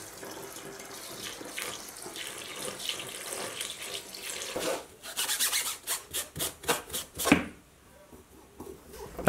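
A restored vintage file rasps across metal, first in soft, uneven scrapes and then in a series of loud, regular back-and-forth strokes close by, ending abruptly.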